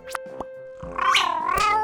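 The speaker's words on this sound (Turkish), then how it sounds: "Kedi mama istiyor ama mama kalmamış hiç kapta." A cartoon cat meows for food at an empty bowl, giving a couple of short clicks and then two loud, drawn-out, wavering meows close up with no talk.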